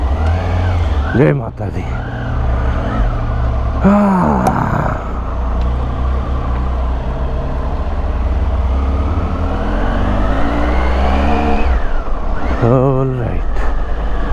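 A Triumph Tiger motorcycle pulls away on a long-distance highway ride, its engine loud and close as the revs climb in rising sweeps through gear changes, with a rider speaking briefly over it.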